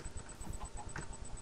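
Chickens clucking in the Minecraft video game, a few short soft clucks scattered across a brief stretch over a steady game background hum, fairly faint.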